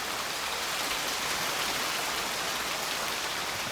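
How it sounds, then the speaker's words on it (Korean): Heavy rain pours in a dense, steady hiss, loud and close, with no pauses and no voices. "하모니카 소리가 거치고 들려오는 빗소리 점점 가까이"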